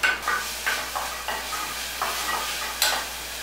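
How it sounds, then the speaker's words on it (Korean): Seasoned meat stir-fried over medium heat in a pan greased with sesame oil, with a steady close sizzle broken by several scraping stirs of a utensil. "고기 양념한 거를 먼저 볶아주세요"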